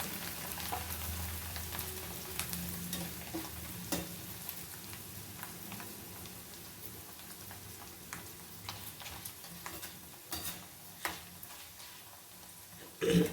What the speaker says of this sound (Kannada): ನೆಕ್ಸ್ಟ್ ರೌಂಡ್ ಇವಾಗ ಹಾಕ್ತಾ ಇದ್ದೀನಿ. ಚೆನ್ನಾಗಿ ಫ್ರೈ ಆಗಬೇಕು.